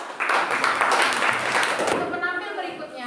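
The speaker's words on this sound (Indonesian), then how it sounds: "Tepuk tangan sekali lagi." Listeners clap for a student group that has just finished its presentation in a classroom. A short, lively burst of applause fades after under two seconds, and a voice speaks afterward.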